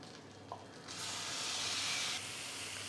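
Chicken hitting melted butter in a hot pan sets off a sudden loud sizzle, which holds steady for about a second before easing into a quieter, continuous frying hiss with no talk.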